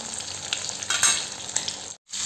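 Masala fish frying in a shallow pan of little oil, a close, crackling sizzle with brief surges as pieces shift, cut by a momentary silence near the end before the sizzle resumes.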